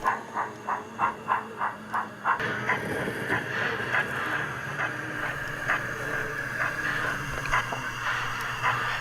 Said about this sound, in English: the Tipsfield service pulls into the bay platform, drawn by a BR Standard Class 2